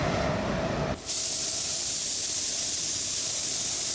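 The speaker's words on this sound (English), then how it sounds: "I'm just dusting a little bit of paint over each of the dust nibs that I sanded out" A spray gun dusts a light coat of paint over sanded dust nibs on a fiberglass hood, a close, loud hiss that briefly drops, then shifts into a brighter, steady spray hiss.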